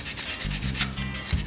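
A steady, close rubbing and scrubbing sound, like a cloth being wiped firmly back and forth across a surface, continuing for the whole moment.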